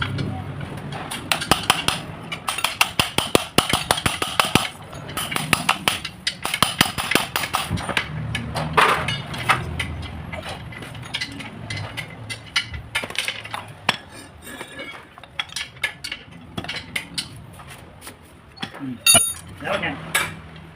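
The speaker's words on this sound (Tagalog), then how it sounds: "ito ko guys kung paano magtanggal ng axle bolts guys ito" Rapid metallic hammer strikes ring out while removing axle bolts on a Toyota Corolla during axle boot and suspension arm bushing work, dense clanking bursts with brief pauses and clinks throughout.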